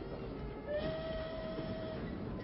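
A train runs on rails with a steady, low rumble and a faint, thin whistle tone drifting over it; it sounds somewhat distant and there is no speech.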